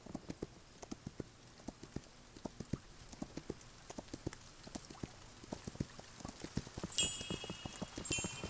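Rhythmic clip-clop of a horse's hooves in the mobile game Kingdom Two Crowns, steady regular steps at moderate volume, joined near the end by a few bright chiming game tones.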